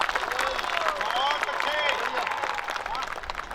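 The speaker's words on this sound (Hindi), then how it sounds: "तालियां इस बात पर भी बजनी चाहिए।" An audience at a live Hindi poetry recital claps in a steady burst of applause, mixed with crowd cheers and voices calling out over the clapping.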